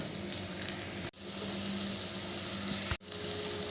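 Egg being stirred into a raw tomato curry frying in a pan, a loud steady sizzle close by, broken twice by brief dropouts.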